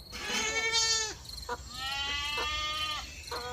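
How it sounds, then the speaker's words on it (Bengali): A goat bleats outdoors before dawn, with several wavering cries in a row, fairly close and clear, each separated by short pauses. "বাইরে ম্যাঁ ম্যাঁ শব্দে ছাগল ডাকছে।"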